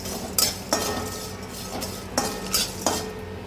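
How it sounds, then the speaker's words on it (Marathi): Whole garam masala spices roasting in a little oil, stirred with a metal spoon against the pan, giving several distinct scrapes and clinks over a soft background. "हे सगळं साहित्य आपल्याला थोडंसं तेल टाकून भाजून घ्यायचं आहे"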